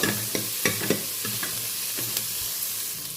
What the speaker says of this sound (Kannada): ಧನಿಯಾ ಕಾಳು ಸೇರಿಸ್ಮೇಲೆ ಸ್ವಲ್ಪ ಚೆನ್ನಾಗಿ ಧನಿಯಾ ಕಾಳನ್ನ ಅಷ್ಟೇ ಕೆಂಪಕ್ಕಾಗೋವರೆಗೂ ಫ್ರೈ ಮಾಡ್ಕೋಬೇಕು.